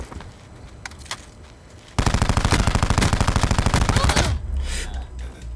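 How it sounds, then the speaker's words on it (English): Full-auto weapon fire in the video game Towerfall rattles out as a loud, rapid burst of shots lasting about two and a half seconds, after a quieter stretch of game sounds, then gives way to a lower rumble. "How did they shoot that weapon full auto?"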